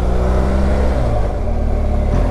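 A motorcycle engine runs steadily and fairly loud, shifting smoothly through gears with a low, continuous drone and slight changes in pitch as it eases off and slows.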